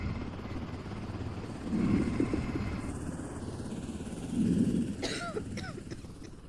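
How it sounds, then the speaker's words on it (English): A woman in a zombie quarantine video game coughs twice, in two short rough bursts a few seconds apart, over a steady humming background drone. "Oh, God, please do not cough on me"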